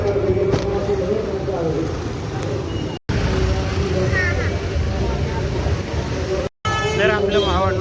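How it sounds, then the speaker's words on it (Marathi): Busy road traffic outside a temple, a steady rumble of passing vehicles with occasional horn toots, loud and continuous, briefly cut twice by dropouts. "आता गाड्यांचा ट्रॅफिक बघा."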